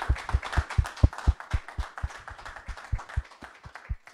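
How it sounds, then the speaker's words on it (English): Small audience at an enterprise masterclass clapping for a speaker, sparse, distinct individual claps in a loose rhythm, fairly quiet and a little distant. "Round of applause for Mark Logan"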